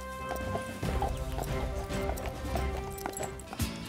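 A horse's hooves clip-clop steadily on a hard surface during a village competition arrival, a regular rhythmic beat at moderate distance, partly under background music.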